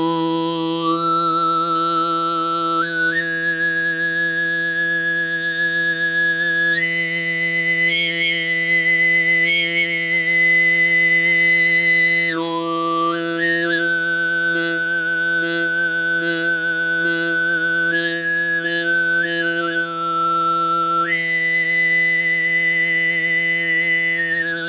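Altai throat singing in the high, heavenly style: a steady low drone under a piercing whistling overtone melody that steps between pitches, loud and continuous with no talking.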